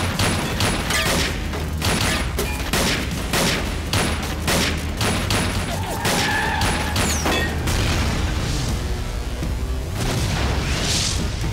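Gunfire in an action film scene: a dense fusillade of loud, close shots and booms crowding the first half, then thinning into rumbling aftermath and scattered impacts.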